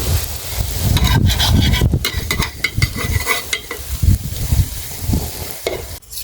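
Rice-field crab fish cakes fry in hot oil, a steady dense sizzle broken by stirring and scraping of a utensil against the pan, close and fairly loud with no talk.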